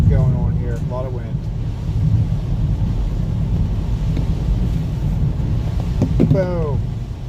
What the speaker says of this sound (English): We have a lot of wind going on here.